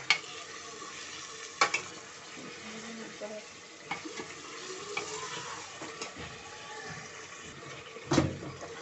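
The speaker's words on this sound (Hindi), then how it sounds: "ये गोश्त जो है हमारा ये भुनना है" Mutton for gosht palak browns in a pan, an ongoing sizzle with intermittent stirring scrapes and a few sharp knocks, close by, with some voice in the background.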